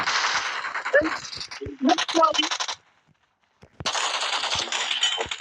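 Rapid gunfire bursts from a team shooter video game, close and loud in short clusters, a pause of near silence, then sustained firing resumes, with players talking over the action.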